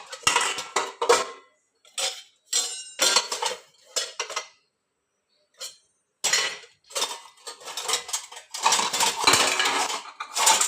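Metal cutlery and dishes clatter in a kitchen drawer while someone hunts for a spoon before cooking dal and rice, in repeated loud bursts of rattling and clinking broken by short pauses.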